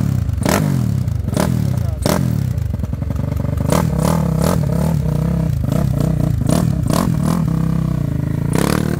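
A Twister motorcycle with a modified 79mm engine rides along a street, its engine rising and falling in pitch as it shifts through the gears. The engine stays loud and close with a few clattering knocks.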